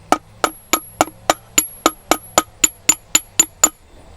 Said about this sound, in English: And then you'll take your hammer.